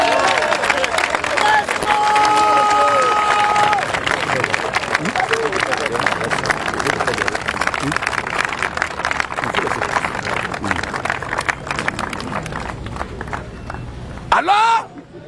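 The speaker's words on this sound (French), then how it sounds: "On acclame le Seigneur Jésus-Christ." A worship crowd loudly applauding and cheering in acclaim of Jesus Christ, with sustained clapping and shouts that hold through most of the stretch before thinning out, and voices rising over it near the end.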